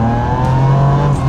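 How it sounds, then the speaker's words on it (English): A Ferrari 550's V12 engine accelerating hard, a loud, close, steady rising drone with strong low harmonics that dips briefly near the end, with no voices. "Oh, that's V12. It's very fast."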